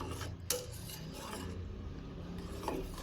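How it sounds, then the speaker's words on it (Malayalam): Thick porridge of barley flour and dates stirred in a pot, giving soft, continuous rasping scrapes with a couple of sharper knocks against the pot, close and quiet. "അതുകൊണ്ട് ഇതുപോലെ ഒന്ന് നന്നായിട്ടൊന്ന് ഇളക്കി കൊടുക്കുക."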